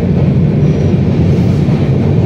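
A passenger train runs through Chandil Junction without stopping, heard from on board as a steady, loud rumble of wheels and carriage noise that continues without a break.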